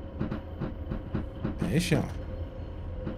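A train rolls along in a Roblox British railway game, with a steady rumble and a regular rhythmic clatter, a brighter hiss swelling briefly midway, under a short spoken reply.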